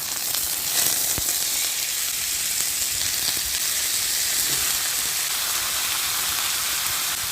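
Chicken sizzles and fries steadily in a hot pan with sautéed garlic and ginger, a loud, continuous crackle with occasional sharper pops, and no talk.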